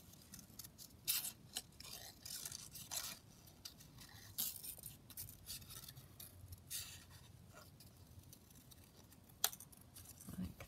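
Scissors snip out a paper butterfly for a ring-bound journal in a run of faint, close, irregular cuts and paper rustles.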